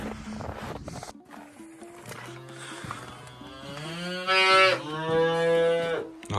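A blue-grey calf moos several times at a winter livestock camp, drawn-out tonal calls close by, rising to a louder bellow near the end.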